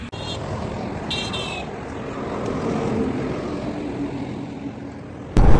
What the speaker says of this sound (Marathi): हायवेवरून गाड्या किती सुसाट जातात ते दाखवते तुम्हाला.